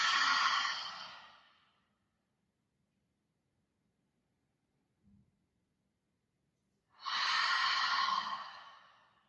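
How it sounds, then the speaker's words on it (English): A long audible exhale through the mouth during a yoga breathing exercise, two breathy sighs each fading out over about two seconds, separated by near silence and a faint soft tap. "Take a breath in. And exhale through the mouth."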